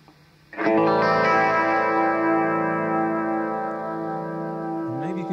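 Electric guitar through a Boss pedal with gentle phasing, a sustained chord ringing out loud and steady with a subtle swirling shimmer, fading slightly before a brief new note near the end.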